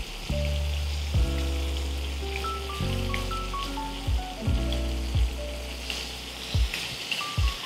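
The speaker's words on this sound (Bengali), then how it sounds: "খুব সুন্দর একটা গোল্ডেন রং ধরা না পর্যন্ত আমরা মাছগুলোকে ফ্রাই করব।" Fish pieces fry in hot oil with a steady, soft crackling sizzle that runs underneath light background music, with no voices.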